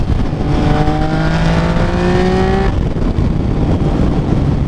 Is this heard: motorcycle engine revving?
yes